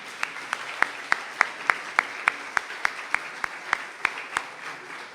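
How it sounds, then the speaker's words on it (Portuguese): A church congregation claps in a steady, even rhythm, sharp regular hand claps repeating about three times a second over a soft background hum, fairly quiet overall. "Os irmãos podem aplaudir?"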